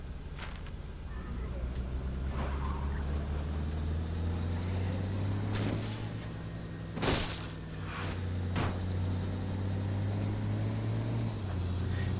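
A car driving in the State of Decay video game: a low, steady engine drone runs throughout, with occasional bumps and clatters, while people talk over it.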